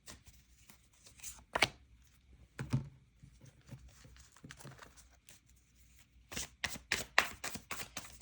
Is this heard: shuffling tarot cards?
yes